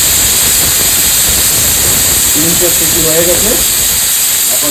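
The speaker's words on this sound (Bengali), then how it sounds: "আমি আমার প্রেশার কুকারে তিনটে সিটি মিটিয়ে দেবো" Pressure cooker on a gas stove venting a loud, steady steam hiss throughout, with a brief whistling tone rising partway through.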